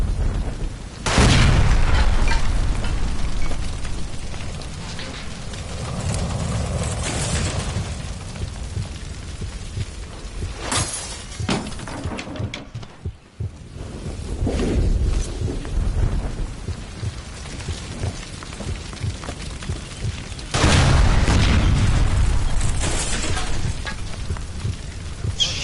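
A gas line blows up in the video game L.A. Noire, with several heavy, booming blasts and long rumbling roars that swell and fade, loud and close.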